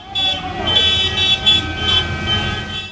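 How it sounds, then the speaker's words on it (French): Tractor engines rumbling and car horns honking at a farmers' protest in Paris, repeated toots and tonal blasts over a steady low engine drone, loud and close. "Vrombissement de moteurs, bruit de klaxons"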